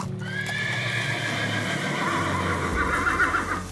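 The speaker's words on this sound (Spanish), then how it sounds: "Y en eso, los caballos se alebrestan." Horses whinny loudly near at hand while their hooves clip-clop in a steady rhythm across a rural stretch of countryside, with no talking.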